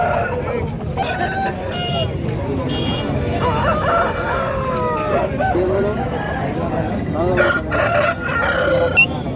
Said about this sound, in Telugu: పుంజు అయితే మంచి బాడీ గల పుంజు అండి